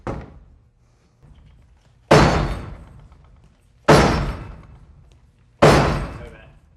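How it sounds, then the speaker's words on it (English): A 38-pound steel ram strikes a door fitted with a deadbolt lock three times, each a loud, sharp, heavy bang with a short ringing decay, spaced about two seconds apart, with quieter low thumps between. "this is how they normally will break a door down in 1 or 2 swings"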